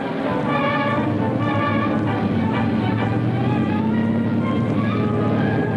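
A 1950 swamp buggy's engine drones steadily at a race, a loud, continuous throbbing hum with a rough, buzzing tone that holds throughout without pause.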